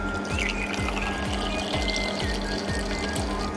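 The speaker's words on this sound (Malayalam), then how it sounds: "അതിലേക്ക് ഞാനിങ്ങനെ വെള്ളം ഒഴിക്കുകയാണ്" Water pours steadily into a glass, a continuous close trickle with a regular pulsing gurgle running through it, alone and fairly quiet.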